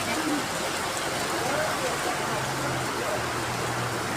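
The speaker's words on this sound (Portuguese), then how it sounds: "Chuva muito mesmo," Heavy nighttime rain in Itapipoca, Ceará, a dense, steady hiss of rainfall that fills the whole stretch, with soft background sounds and faint voices underneath.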